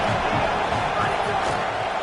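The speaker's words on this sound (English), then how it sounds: "This crowd rising up," Football stadium crowd at a Penn State game swelling into a broad, continuous roar, loud and sustained throughout with no clear breaks.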